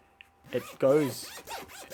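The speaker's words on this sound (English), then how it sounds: "The zip on these is quite good." A zipper on an Ultra-Pro Deck Builder's suede Premium Pro-Binder is pulled in a few quick, close, scratchy strokes, each a short rasping zip with brief pauses between.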